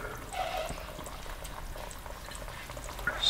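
Bear fat cracklings frying in a pan while the last fat renders out, giving a steady, fairly close bubbling crackle with scattered pops throughout and no talking.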